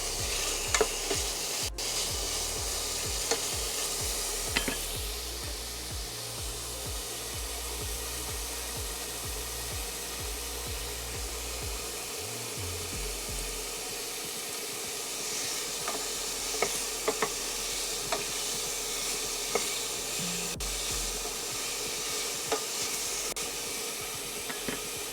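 Goulash ingredients sizzle and hiss steadily in a hot pan, a continuous close frying sound with occasional stirring scrapes and small pops.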